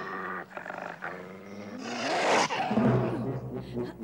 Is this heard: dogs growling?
yes